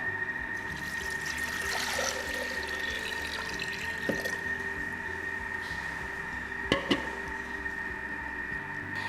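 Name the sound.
water being poured into a food processor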